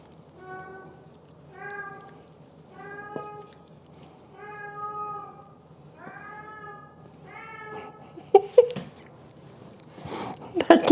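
A cat meows six times in a steady, evenly spaced series, then a clatter of noises follows; the sound is close but moderately soft, and no one talks.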